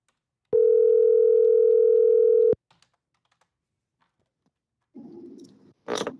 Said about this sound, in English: All right, I'm dialing the first number.